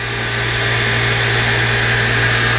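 Sub-spindle of a Citizen M16 CNC Swiss lathe spinning at 7,000 RPM, heard from very close as a loud, steady whine with a constant low hum and broadband hiss, unchanging throughout with no talk.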